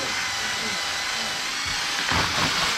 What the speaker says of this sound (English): mop it with some abrasive compound first, just to take those bits off